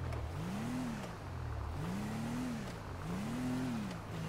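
A car engine in GTA Online revs repeatedly, three rising and falling surges in pitch over a steady rumble. It is moderately faint, with no talk.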